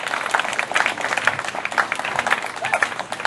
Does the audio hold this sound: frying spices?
no